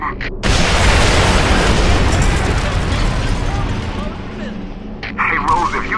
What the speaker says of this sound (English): Go somewhere safe and we can fire these charges off.